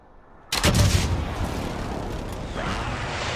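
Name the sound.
precision airstrike explosions in a video game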